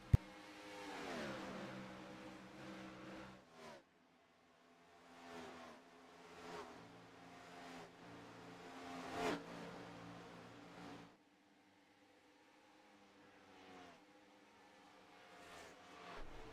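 A race car engine in the iRacing video game at Chicagoland revs and shifts repeatedly, rising and falling in pitch with brief lifts off the throttle. It is steady and moderately loud, and there is no commentary over it.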